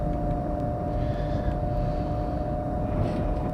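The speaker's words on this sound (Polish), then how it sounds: "Kolejny samolot." An airplane passing in Train Simulator Classic, a steady droning engine roar with a constant low rumble and tone, continuous and fairly loud, with no talk.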